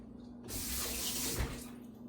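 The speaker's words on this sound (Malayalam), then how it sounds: "ഏകദേശം ഒരു 1/4 കപ്പ് പാല് ഒഴിച്ചു കൊടുക്കുന്നുണ്ട്" A quarter cup of milk pours into an oat and puttu flour mixture, a steady liquid stream rushing for about a second with a faint thud near its end, alone against quiet kitchen background.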